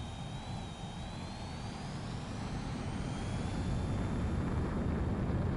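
The XFA-27 jet in Ace Combat 7 roars loud and close with a continuous engine rumble and a rising whine as it comes in to land on a runway.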